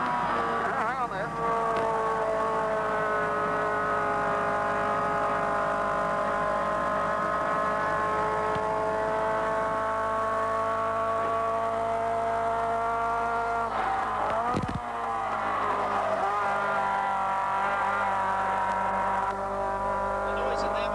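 In-car sound from a 1980 touring car racing at Bathurst in the Hardie-Ferodo 1000, a loud, constant engine roar with rising and falling pitch as gears change, filling the cabin throughout.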